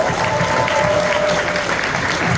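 A premiere audience at a film Q&A claps loudly and continuously, a dense, steady wash of applause with no clear voices over it.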